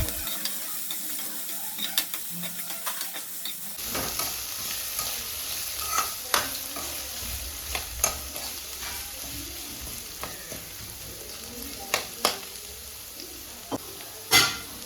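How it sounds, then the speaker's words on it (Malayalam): Chopped ginger and other ingredients for Kerala-style puli inji are stirred and sautéed in a pan, with a soft continuous sizzle and repeated spoon scrapes and taps, close and moderately loud. "ഇനി ഇതൊക്കെ ഒന്ന് വഴന്ന് വരുന്നത് വരെ ഇളക്കി കൊടുക്കാം"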